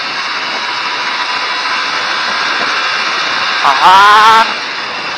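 A Yamaha Vixion SS motorcycle engine runs at a steady high drone, then revs up sharply near the end with a rising whine. A voice speaks briefly over it.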